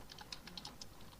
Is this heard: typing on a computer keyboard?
yes